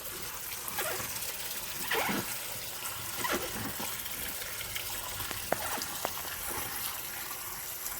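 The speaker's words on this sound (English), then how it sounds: "I fill it up with water." Quiet running water pours into a cooking pot, a soft continuous gush with occasional small clinks and splashes.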